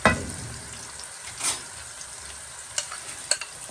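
Two onions browning in a pan for a seekh kabab karahi, giving a soft steady sizzle with a few brief stirring clatters and scrapes.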